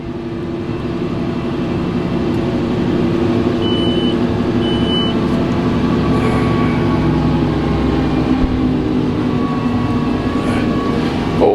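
A new Fendt Momentum tractor pulls uphill at 10 mph, its engine a loud, sustained drone with steady low rumble, and a couple of brief high beeps sound early on.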